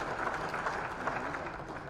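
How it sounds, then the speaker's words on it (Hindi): An audience applauds at the Rising Rajasthan investment summit, a dense, steady wash of clapping filling the hall at moderate volume. "जोरदार तालियां हो जाए श्री संजय श्रीवास्तव जी के लिए।"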